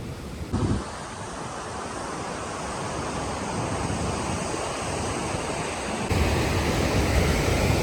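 Mountain stream water rushing below the Nun Kun glacier track in the Suru Valley, a steady broadband roar heard close and alone, mixed with gusting wind noise on the microphone.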